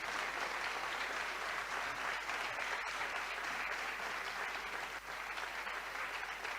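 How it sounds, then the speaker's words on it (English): Sustained applause from a debate competition audience, a dense continuous patter of clapping that holds steady throughout without voices. "give a big round of applause to the best debater of the evening, Hashini Maheshika"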